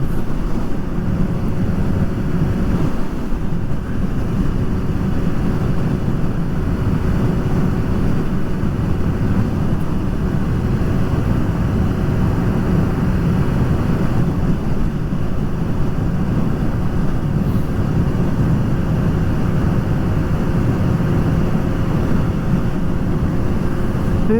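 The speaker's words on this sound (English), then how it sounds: "Right into the wind here, like." Steady, loud wind roar buffets the microphone while riding a Suzuki GSX-S750 AL9 motorcycle straight into a headwind, a continuous low rumble with no breaks and no talking.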